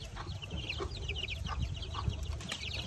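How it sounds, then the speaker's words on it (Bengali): Hens cluck and chicks peep in a steady, busy chorus close by, with scattered soft calls overlapping throughout. "আমার এই যে বড় দুইটা মুরগি আছে তার সাথেই ছোট মুরগি বড় মুরগি"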